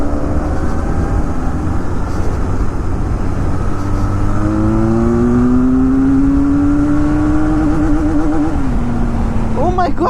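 A Benelli 502C motorcycle engine accelerating, its note rising steadily in pitch through the gear, loud and close, with wind and road noise underneath and a rider's voice over it.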